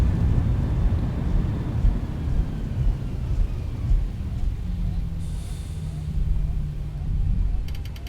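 A Zibo Boeing 737-800 retracts its flaps after landing in X-Plane 12, a low steady hum running under the loud rumble of engines and rollout, with brief electronic tones near the end.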